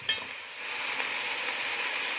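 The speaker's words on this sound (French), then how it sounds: "On va laisser les oignons sauter un peu." Onions sauté in a hot pan with a steady, close sizzle that builds slightly after a brief stir at the start, no talking.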